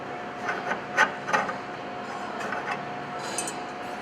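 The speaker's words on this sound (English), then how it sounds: "you can take your threaded rod, align it with the threads of the clamp, and simply screw it in quickly and easily" A threaded rod being screwed into a stainless steel C-style beam clamp gives a few close, light scraping clicks and rubs in an irregular rhythm, fairly quiet, with no talk.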